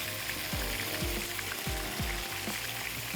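Oil sizzling steadily in a pot while frying for Shab Daig, with a continuous hiss and periodic low scraping knocks as pieces are turned; no voices.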